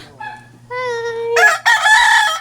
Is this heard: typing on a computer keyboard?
no